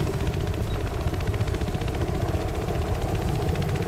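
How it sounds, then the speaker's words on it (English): Steady rhythmic thumping of helicopter rotors with engine drone in Battlefield Hardline, continuous and fairly close, no voices. "Hit the helicopter!"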